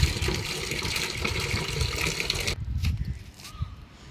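Tap water gushes into a container being filled to water plants, a loud, steady splashing that cuts off abruptly partway through, leaving a few faint drips and small knocks.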